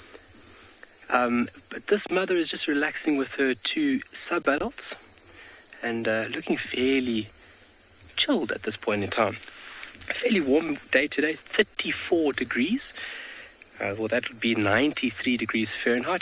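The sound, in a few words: cicadas calling constantly on a warm afternoon, South Africa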